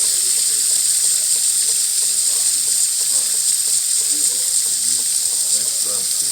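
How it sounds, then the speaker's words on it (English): Steam wand on the cappuccino side of a Jura J9 espresso machine hisses strongly and steadily at close range, a constant bright rush with faint clicks and gurgles beneath. "Nice strong steam"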